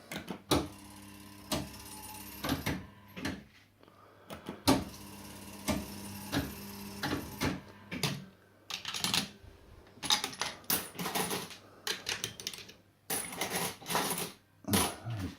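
A Bell Fruit Nudge Climber fruit machine clicks and whirs steadily with rapid mechanical ticks and clunks, moderately quiet and close, no voices.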